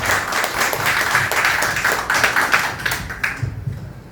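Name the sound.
audience applause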